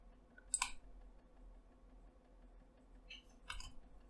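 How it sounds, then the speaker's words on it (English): Two brief, crisp computer mouse clicks, one near the start and one after a gap, the second a quick double, while working in Siemens NX 2312 CAD software; quiet room, no talking. "Just right click it, delete this one."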